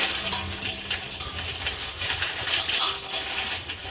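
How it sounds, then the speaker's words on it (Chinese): Glass noodles stir-fried in a pan, with a steady clatter of utensil scrapes and light tapping against the metal, close and fairly loud throughout and no voices. "这粉条呢再炒一点"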